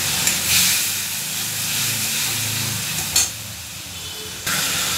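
Amudi fish with turmeric and a splash of water in a pan gives off a loud, continuous steamy hiss and sizzle, with a couple of abrupt scraping bursts as it is stirred.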